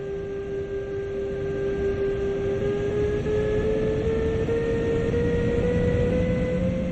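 Steady rolling rumble and hum inside a double-deck passenger coach hauled by a BR 146.2 electric locomotive on the Spessart ramp in a train simulator game, with rising motor tones running continuously and close throughout.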